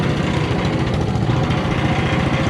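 A Honda GC190 engine powering a motorised wheelbarrow with a centrifugal clutch runs steadily, a loud, close, noisy and rattly small-engine putter throughout.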